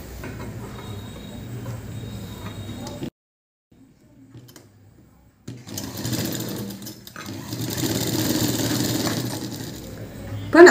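A sewing machine stitches blouse fabric for a fitted front cup shape, whirring loudly and rapidly up close in two runs split by a quiet pause of a few seconds.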